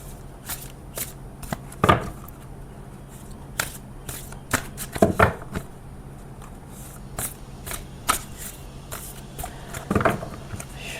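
Tarot-style astrological cards being shuffled by hand in a quiet room, with soft repeated riffling and flicks and a few louder shuffle bursts spread across the stretch.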